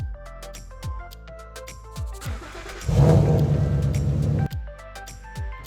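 A 2015 Ford Mustang GT V8 rumbles at idle, then revs up briefly as it drives onto ramps, a loud low engine surge for a couple of seconds before easing back to idle amid tapping clicks.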